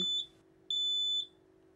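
Two shrill electronic beeps from a smoke alarm, each about half a second long, separated by a short pause, with a faint steady hum underneath.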